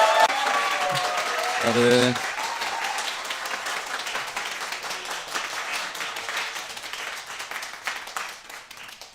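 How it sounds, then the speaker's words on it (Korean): A studio audience claps steadily in sustained applause that slowly fades, with a brief spoken word heard early on. "박수 길이가 좀 길어졌네."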